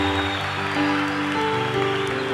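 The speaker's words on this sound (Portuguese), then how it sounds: "Vamos aplaudir o Senhor" A church congregation claps during a worship celebration, producing a dense, continuous wash of applause over sustained music.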